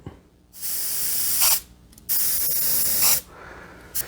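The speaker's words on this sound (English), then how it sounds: "So like an airbrush, you can hold the air on." A GSI Creos PS-290 airbrush sprays air and paint in two long, loud hissing bursts, each over a second, with a short pause between them and a brief puff at the end.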